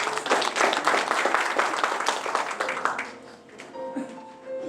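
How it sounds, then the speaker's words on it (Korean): An audience at a residents' forum claps to welcome participants. The applause is full and steady at first, then fades out after about three seconds, and a faint tone and quiet room noise remain. "큰 박수로 맞이해 주시기 바라겠습니다"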